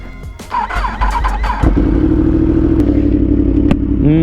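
An abused former track Yamaha R1 superbike fires up after some clattering, then settles into a loud, steady, close idle as it warms up, with a brief blip near the end.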